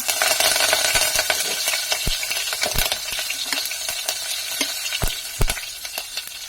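Asafoetida and curry leaves crackle in hot oil for a Konkan-style raw mango curry, a steady close sizzle broken by sharp popping bursts and a few clinks, with no talking.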